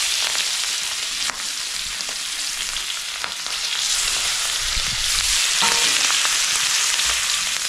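Prawns coated in masala and salt fry lightly in a pan over a wood-fired chulha, a bright continuous sizzle with occasional stirring scrapes, close and fairly loud.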